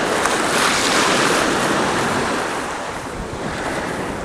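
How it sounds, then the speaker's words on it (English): Ocean surf at Lanikai Beach on the windward east side of Oahu, a continuous loud rush of breaking waves mixed with heavy wind buffeting the microphone. "this is the waters at Lanikai Beach here on the windward side of Oahu"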